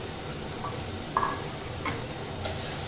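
Chicken mince being stirred and sautéed into a spice masala in a pan, a low steady sizzle broken by a few scraping strokes of a spoon, no talking.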